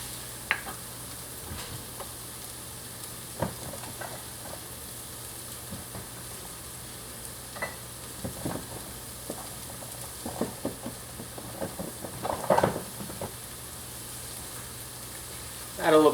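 Ingredients browning in rendered pork fat in a pan, with a soft steady sizzle and occasional clicks and scrapes of stirring, quiet and close.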